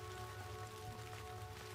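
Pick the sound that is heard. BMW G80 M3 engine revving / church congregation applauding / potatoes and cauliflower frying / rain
rain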